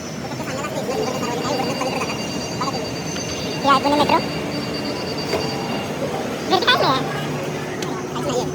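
A Pune Metro train rumbles and hums as it pulls into the station, with squealing and hissing sounds over a busy crowd murmur and nearby voices.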